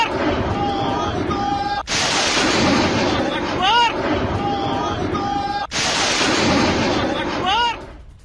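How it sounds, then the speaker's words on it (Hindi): Heavy gunfire exchanged between the Syrian army and SDF fighters, a dense roar of shots and blasts with sharp bursts starting and stopping, loud and continuous with a few whistling streaks. "दोनों तरफ से जमकर फायरिंग हुई है।"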